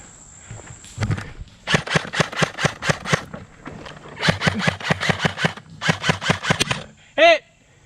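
Airsoft M4 CQB combat rifle fired in a backyard game, several rapid strings of sharp clacking shots in quick bursts, close and fairly loud, with brief pauses between volleys.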